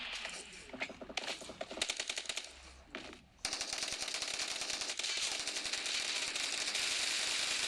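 Rapid automatic gunfire in the mobile battle royale game PUBG Mobile, with sparse single shots first, then a brief lull and a dense, loud sustained stream of bursts.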